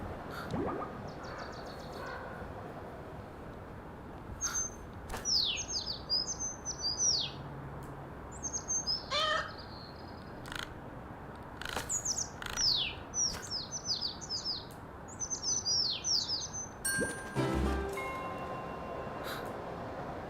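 A bird in the Gecko Cats video game chirps in quick, high, sharp clusters, the runs of tweets separated by pauses, over a quiet background with an occasional soft breath or snort.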